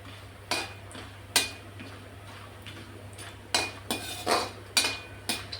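Metal spoon clinks and scrapes in a kadhai as about 50 grams of dried turmeric roots are stirred in hot oil. Sharp, separate knocks come in loose bursts over a faint steady hum, with no talking.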